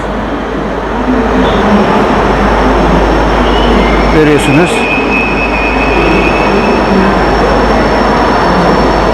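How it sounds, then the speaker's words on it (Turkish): A train rumbles steadily into Köln Hauptbahnhof station with a low roar, a brief squeal of brakes midway, while someone speaks over the noise. "şu anda trenimiz geldi"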